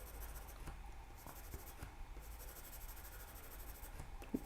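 Graphite pencil shading paper to lay down an even layer, a soft steady scratchy rubbing heard close and faint, with repeated strokes and occasional light taps, no talking.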